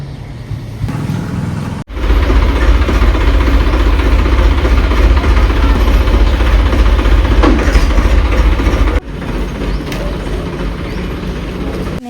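A tractor engine idles on a Gujarati village farm, a loud, steady low rumble with a constant vibration that cuts out briefly twice and then resumes.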